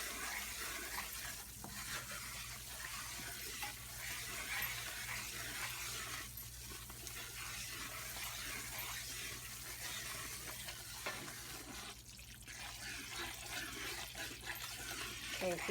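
Red chicken mole sauce bubbles and fries in plenty of corn oil in a pot, giving a steady close sizzle with frequent popping and occasional stirring scrapes.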